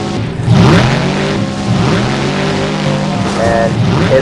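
A monster truck engine revs loud and close during a time attack run at a Minneapolis tournament, its pitch climbing and falling in sustained roaring surges with no talk over it.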